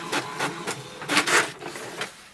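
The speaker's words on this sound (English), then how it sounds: "This will activate the Wi-Fi direct and it will print printer status report." An HP Tango printer prints a status report, giving a close, steady run of rhythmic mechanical whirring pulses with a louder burst near the middle.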